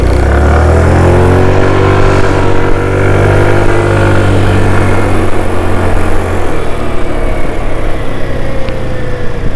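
A Zuma 125 scooter engine revs up and accelerates while being ridden, a loud, steady mid-pitched drone that climbs in pitch and holds close throughout, with wind rush underneath.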